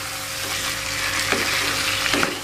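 Shrimp, bitter melon and stink beans fry in a pan and get stirred, a steady close sizzle with a few scraping stir strokes rising above it.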